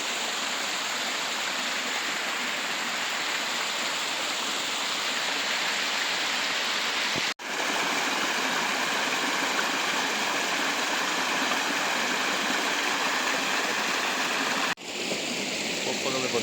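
A mountain river, the Pujica near Brestovačka Banja, rushes steadily over its bed, a close, continuous broadband wash broken by two brief cuts.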